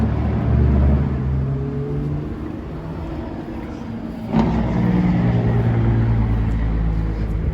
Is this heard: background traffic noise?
yes